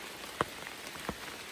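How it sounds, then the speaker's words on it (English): Light rain falls outdoors as a soft continuous hiss, with two distinct nearby drop impacts standing out over the faint wash. "It's still raining a little bit."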